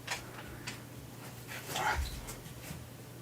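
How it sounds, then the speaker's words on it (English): Puppy indoors, faint whimpers and a few soft yips scattered across a quiet room, with one slightly louder bark near the middle. "He's a smart puppy, too smart."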